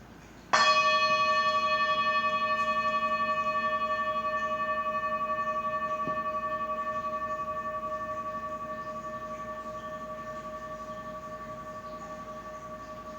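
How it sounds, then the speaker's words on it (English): A meditation bell is struck once at the start of a guided practice, its clear ringing tone sustaining and slowly fading over many seconds with no talking. "And now I'll sound the meditation bell"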